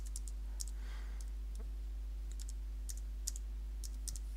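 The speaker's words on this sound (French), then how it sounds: "Barbuche, là, le clavier, il est bien en AZERTY, et je peux mettre mon arrobase" Light keystrokes tap on a computer keyboard in short scattered bursts and single clicks, quiet against a steady low electrical hum, with no voice present.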